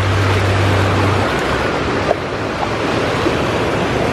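Ocean surf rolls in steadily at Daytona Beach, Florida, a continuous close wash of breaking waves mixed with wind buffeting the microphone, with no talking.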